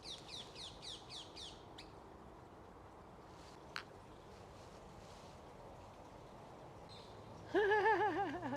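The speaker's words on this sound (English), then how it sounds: "can't believe there's parrots in London" Shrill, rapid parrot calls burst out from trees in London at the start, then a quiet stretch with distant noise, before loud screeching calls return close by at the end.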